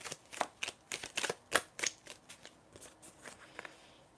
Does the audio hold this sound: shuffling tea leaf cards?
yes